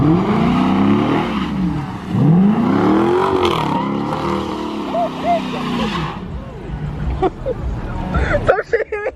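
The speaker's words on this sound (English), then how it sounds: "You just like running a engine or something? Like spinning the wheels." At a large city car meet, a car engine revs in repeated rising and falling surges with tires spinning, loud and close, while several people talk and shout nearby.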